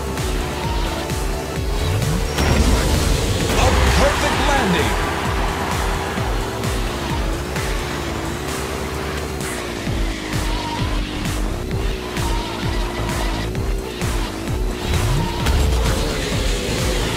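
Racing cars in the RaceCraft video game roar continuously with engine whine rising and falling through gear shifts, with tire squeals and skids, loud and close throughout, with no talking.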